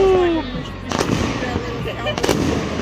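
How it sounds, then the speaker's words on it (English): Fireworks at a Fourth of July show burst and crackle at a distance, with two sharp booms over a steady rumble and crowd noise, and a brief whistle at the start. "There's fireworks going on."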